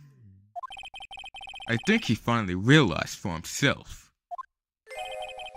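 A mobile phone rings in Ace Attorney: Trials and Tribulations, repeated bright electronic trills that stop for a stretch of talk and then start again.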